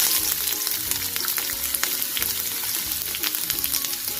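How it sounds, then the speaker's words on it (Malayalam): Mustard seeds crackling and popping in hot oil with ginger and garlic, a dense close sizzle with sharp pops scattered throughout, music faintly underneath. "കടുക് നന്നായി കിടന്ന് പൊട്ടട്ടെ. അതിൻ്റെ കൂടെ നമുക്ക് കുറച്ച് ഇഞ്ചി, കുറച്ച് വെളുത്തുള്ളി കൂടി ഇട്ട് കൊടുക്കാം."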